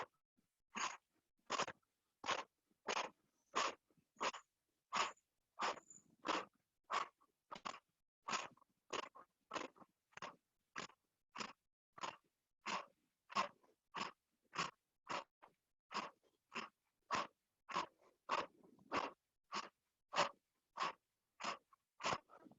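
Rhythmic, forceful exhales from a yoga breathing exercise, about thirty sharp puffs at a steady pace of a little over one per second, each drawing the belly in, close and clear with no talking.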